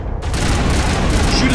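Dense, loud gunfire from a strong weapon in the video game Mass Effect Legendary during a Geth attack on Feros, a continuous burst of rapid shots filling the moment.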